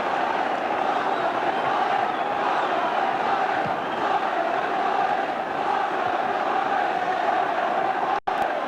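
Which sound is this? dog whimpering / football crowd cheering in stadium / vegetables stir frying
football crowd cheering in stadium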